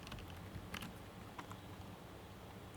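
Keys being tapped on a computer keyboard while a resume is edited in an Overleaf LaTeX editor. A few faint, scattered clicks sit over a soft, steady background hiss, with no voices.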